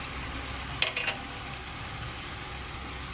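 Pork leg stir-frying with cha muang leaves in a pan, a steady soft sizzle with a couple of brief scraping stirs near the start.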